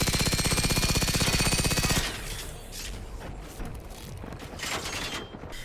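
A K-Pist submachine gun in Generation Zero fires one rapid, sustained burst at close range for about two seconds, then the shots give way to lingering echoes and scattered rattling noise.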